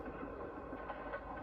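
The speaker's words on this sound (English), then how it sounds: "And sometimes the train goes through the mountain itself," Passenger train rolling along mountain tracks, a steady continuous rumble of wheels on rail with faint rhythmic clatter, heard alone and fairly close.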